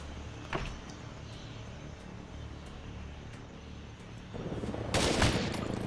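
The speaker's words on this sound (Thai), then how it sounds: "โอ้โหมาถึงยิงเลยครับ" Gunfire in the video game Bad 2 Bad Apocalypse during a Vietnam mission: a sharp early burst, a steady rumbling bed, then a louder dense volley of shots near the end.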